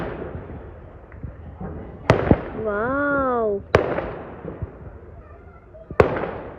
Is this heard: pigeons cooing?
no